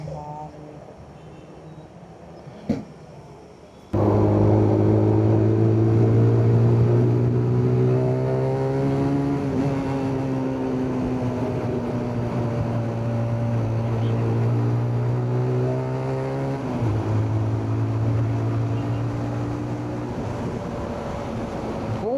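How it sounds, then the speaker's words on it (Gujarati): After a brief quiet start, a CNG-powered car engine drones loudly and continuously, its pitch rising and dipping as it drives along. "ગાડી ભાગે છે."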